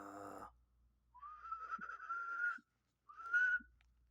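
A person whistles a few rising and sustained notes in two short phrases, close and clear, after a brief hum at the start.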